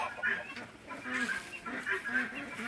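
A couple of backyard hens cluck softly nearby in short repeated bursts, close and fairly quiet.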